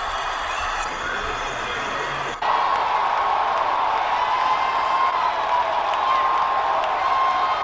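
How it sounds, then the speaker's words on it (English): An arena crowd roars and cheers during an NBA basketball game, a loud, sustained wall of voices that swells sharply partway through and holds steady to the end. "The crowd hyped him up"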